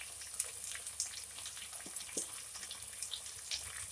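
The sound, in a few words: chicken with spice masala sautéing in a pan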